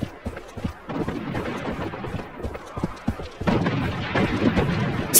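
Dense, continuous gunfire and explosions fill a Project Blood Strike PvP match, with rapid crackling shots and heavier booms swelling louder toward the end of the stretch; there is no speech.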